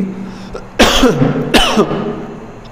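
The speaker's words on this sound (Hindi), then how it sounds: "खांसी हो रही है" Two loud, close coughs a moment apart, each a sharp burst with a raspy tail, over faint background noise.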